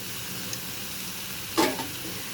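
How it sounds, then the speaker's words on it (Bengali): Chopped onion and chili hit a hot pan of snake gourd frying with black cumin, a steady sizzle rising into a brief louder burst of spitting oil, with no talking. "এখন আমি দিয়ে দিব পেঁয়াজ কুচি আর মরিচ"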